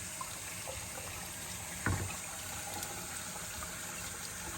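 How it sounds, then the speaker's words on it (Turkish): Calf trotters from a milk-fed calf are rinsed under a running kitchen tap while kelle paça soup is being made. A steady, fairly faint stream of water flows throughout, with one brief louder splash midway and no voices. "Şimdi tekrar bir sudan geçiriyoruz. Akarsuyun altından geçiriyoruz."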